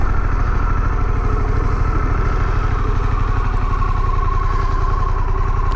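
A Harley-Davidson Pan America motorcycle engine running while braking on dirt, a loud, steady, throbbing low rumble with a fast, even pulse close by.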